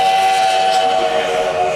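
Steam whistle of an 1880 train in the Black Hills, a loud, steady sustained tone lasting throughout without pause, no voices.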